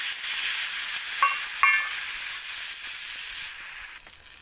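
Fish masala being stirred into a simmering kingfish (vala meen) curry in a pan, a steady soft sizzle with a couple of brief scraping stir strokes, fairly close and heard alone without talk.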